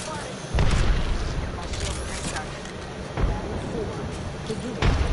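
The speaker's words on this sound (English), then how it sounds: "Grenade, grenade, grenade!" Grenade blasts and gunfire in Apex Legends, several heavy thuds and booms breaking through steady battle noise while players talk over the action.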